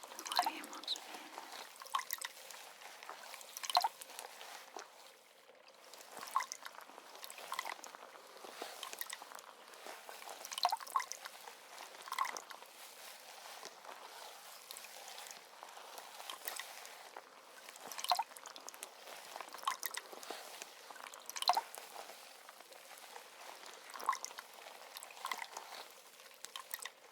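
Salon tap water streaming steadily while hair is rinsed at a midnight hairdresser, a close, continuous hissing spray with soft splashes and drips throughout.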